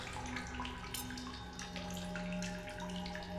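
Steady running water trickles and splashes inside a cave in The Solus Project, a soft continuous flow with occasional drips, heard on its own without voices.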